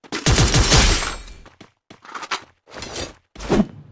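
Gunfire in a battle royale video game, a dense burst of rapid shots up front followed by three shorter, quieter bursts spaced apart, close and loud with no talk.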